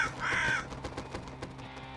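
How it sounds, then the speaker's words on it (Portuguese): A single harsh crow caw in the video game Salt and Sanctuary rings out near the start, followed by quieter rustling and faint background ambience. "Eu ouvi corvos."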